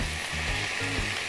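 Pieces of cod tossed into a pan with onion and pepper sizzle and fry steadily, a close, even crackle with no voices over it.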